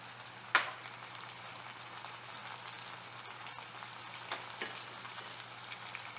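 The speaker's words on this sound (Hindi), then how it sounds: "साथ ही हमने टमाटर डाल देने हैं 3 अदद बारीक चॉप किए हुए।" Three finely chopped tomatoes drop into a hot pan for daal keema with a quick splash, then sizzle and crackle steadily at low volume, with a few soft pops and stirring sounds along the way.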